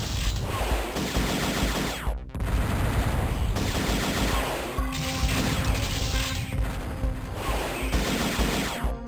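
An enemy explodes in the video game Descent with a loud, continuous crashing roar of blasts and debris. It goes on without a break and swells in repeated waves.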